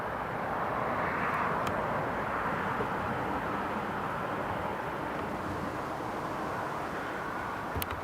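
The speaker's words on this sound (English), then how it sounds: "The A350 always makes landing at Newcastle look so easy." An Airbus A350 airliner landing at Newcastle International Airport gives a loud, steady, broadband jet roar that holds evenly for the whole stretch, with no voices.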